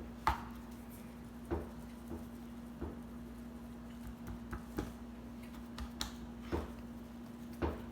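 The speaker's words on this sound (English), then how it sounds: "Pat the seasoning in" Seasoning being patted onto a well-marbled filet mignon: soft, evenly spaced taps repeating every second or so, faint and close over a steady low hum, with no talking.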